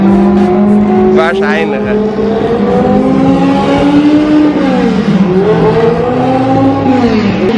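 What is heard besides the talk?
race cars accelerating on circuit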